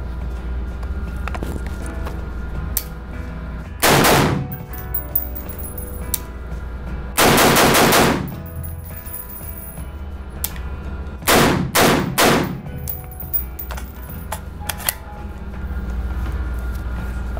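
A CZ Bren rifle fires outdoors, with loud, close shots in separate groups: a single crack, then a quick cluster, then a rapid string of several rounds over a low background hum.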